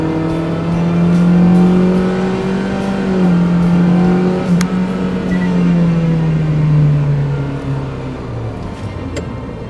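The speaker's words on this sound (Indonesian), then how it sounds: "ketika RPM sudah menyentuh angka 4000 ke atas, suara mesin akan masuk ke dalam" A Mitsubishi Delica D5 engine pushed above 4000 RPM in a low gear, a loud sustained droning rev that swells and eases in pitch over several seconds, heard from inside the cabin with no talk.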